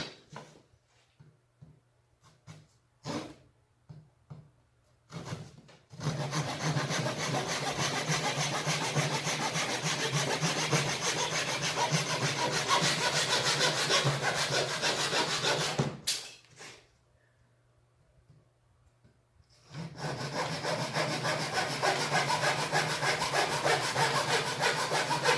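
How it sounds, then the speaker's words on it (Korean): A hand saw cuts through a wooden board for a small square box in a woodworking lesson, with a few short trial strokes and then two long runs of steady, rasping back-and-forth sawing separated by a brief pause, close by. "자, 그럼 요걸 톱질해서 자르면 됩니다."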